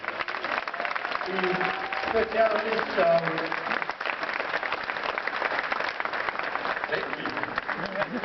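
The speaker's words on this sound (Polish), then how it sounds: "Brawa dla niego" An indoor audience at a pool trick-shot exhibition breaks into sustained clapping that carries through the whole stretch at moderate volume, with a few cheers mixed in and someone speaking over the applause.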